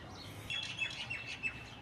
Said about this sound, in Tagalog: Dinig yung mga ibon